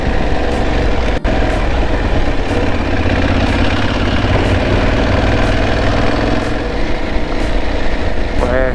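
A motorcycle engine runs loud and close as a continuous rumbling drone, holding a fairly steady pitch throughout.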